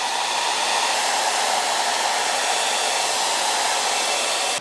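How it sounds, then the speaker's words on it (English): A household hair dryer blows a loud, steady, unbroken hiss at close range while heating a worn leather car seat during repair. "instead of with a professional heat gun, we've learned only to work with a hair dryer"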